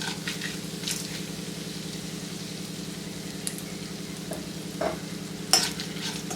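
Puliyogare spice powder dry-roasted on a low flame in a pan, with a steady, close scraping stir and a soft sizzle that carries on throughout, plus a few louder clinks near the end.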